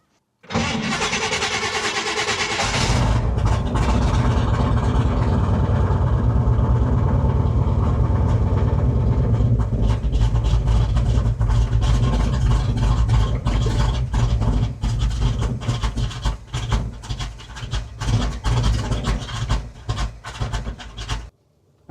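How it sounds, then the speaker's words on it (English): A 1970 Chevy C20 pickup with a big block engine cranks and then fires up after sitting a long time, settling into a loud, rough, steady rumble close by for about twenty seconds before cutting off. "for sitting as long as it did, it starts right up."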